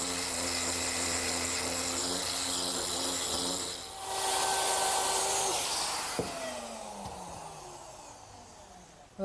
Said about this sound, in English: That was a 1/4 inch radius rounding over bit I used to ease the edges